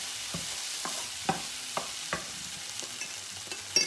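Chicken frying over medium-high heat is stirred in a pan, with a steady sizzling hiss broken by several distinct scraping strokes of a utensil, close and alone with no talking.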